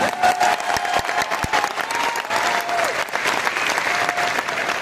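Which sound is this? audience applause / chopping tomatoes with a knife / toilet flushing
audience applause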